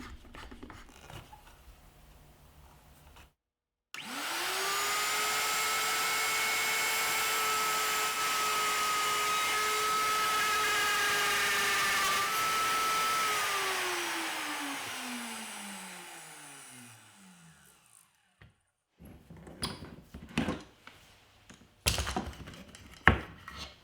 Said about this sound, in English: Now I'll reinstall the set screws and adjust the depth of my plunge router to 3/4 inch.